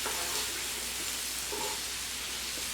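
Flour cooking in oil in a pan for smothered pork chops: a soft, constant hissing sizzle at low volume with faint occasional scrapes, no speech.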